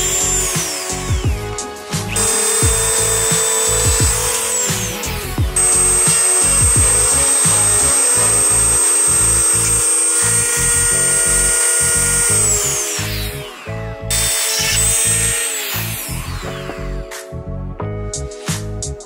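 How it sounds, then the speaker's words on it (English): A Dremel rotary tool cutting out plastic tabs during car interior work, a loud, steady high-pitched whine that bogs and revs as it bites, running almost continuously with short pauses. "so I'm just gonna Dremel them out"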